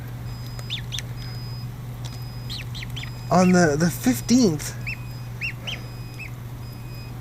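Several goose-like honks and calls cluster in the middle, with a person speaking briefly, over a steady low hum and faint high chirps.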